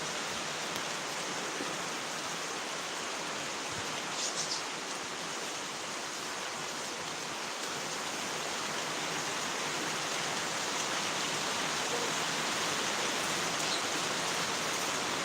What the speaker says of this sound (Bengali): আর বৃষ্টি আরো জোরেই আসতেছে